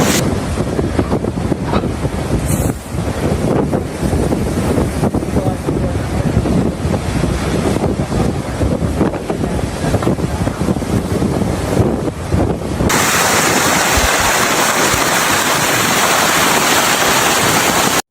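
Strong wind of over 40 knots roars across the microphone with crashing waves and surging water during a storm in Queensland, Australia, a loud continuous buffeting that shifts to a steady hiss later on.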